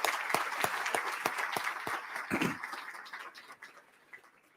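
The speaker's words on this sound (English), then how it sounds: "Let's give them a round of applause for supporting today's forum." A packed audience at a housing strategy forum in Columbus applauds, with steady clapping at moderate distance that gradually thins and fades out over a few seconds.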